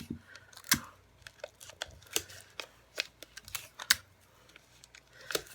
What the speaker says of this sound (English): I'm just going to use regular tape on this.